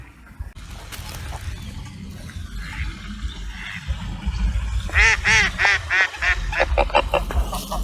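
A group of ducks quacks loudly and close by, breaking into a rapid run of repeated quacks after a quieter stretch of outdoor rumble.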